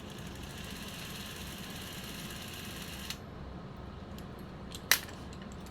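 Bolex H-16 film camera crank shaft running, a faint steady mechanical whirr that stops partway through, followed by a single sharp click, quiet and close with no voices.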